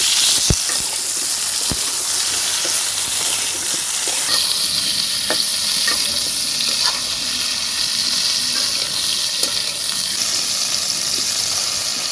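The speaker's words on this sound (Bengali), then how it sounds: "ডিমটা ভাজা হয়ে গেল" Oil sizzles loudly and steadily as an egg seasoned with turmeric and salt fries, with scattered pops and crackles and occasional clicks of a utensil, no voices.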